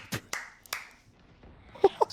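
Hands clap in a few sharp, separate claps, close and fairly loud, with short gaps, then two quicker claps near the end.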